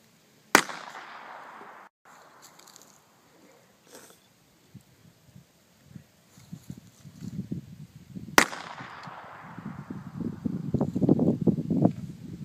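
Pistol shots at an outdoor shooting session, two sharp loud cracks several seconds apart, each with a short echoing tail, and rustling and movement in between.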